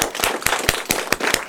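A church congregation claps together in a quick, steady rhythm of sharp, evenly spaced claps, loud and close, with no talking.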